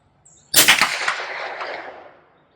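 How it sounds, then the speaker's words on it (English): A single sharp gunshot from a Federal .22 LR high-velocity hollow-point round, fired nearby at an outdoor chronograph test, with a crisp crack and a short echoing tail, alone without speech. "Let's see if we can hit it every shot out of these last 7 rounds."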